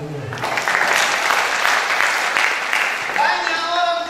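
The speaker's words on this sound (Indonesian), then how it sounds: "Kalau yang mengerti hari ini berikan tepuk tangan bagi Tuhan." A church congregation breaks into sustained applause at a Christian sermon, a dense, loud wash of clapping that fills the room throughout, with a few voices and cheers mixed in toward the end.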